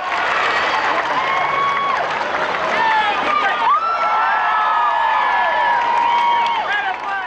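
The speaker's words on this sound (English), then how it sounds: "For the crowd outside, the first glimpse of the married couple brought more cheers than any of Gretzky's famous goals." Large crowd of well-wishers outside a wedding cheering and applauding, a loud sustained roar with whistles and shouts rising and falling, with talk over it.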